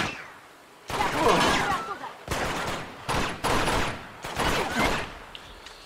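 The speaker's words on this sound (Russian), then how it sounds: "Что за перестрелка?" Bursts of rapid gunfire trade back and forth in a shootout in Uncharted 2: Among Thieves, loud and close, coming in several dense volleys with short gaps between them.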